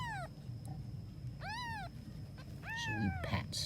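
A Cambodian cat and her newborn kittens meowing, several thin rising-and-falling mews at moderate distance over a low steady background hum.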